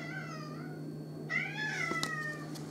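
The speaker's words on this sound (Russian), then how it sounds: "Кот, ты чё кричишь?" A house cat meows loudly and repeatedly nearby, drawn-out wailing calls rising in intensity, heard alone over a steady low hum in an indoor room.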